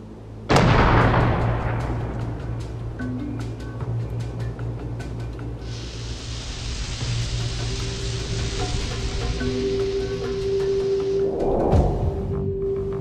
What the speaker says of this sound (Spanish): Luego, el perdigón es disparado con la escopeta.